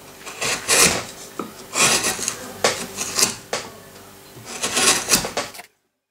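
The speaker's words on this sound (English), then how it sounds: "if you have a good tool, it will cut the wood as a butter" Woodcarving tool cutting into wood while roughing out a carved flower: several rasping, scraping strokes in an irregular rhythm, close and fairly loud, with no talking.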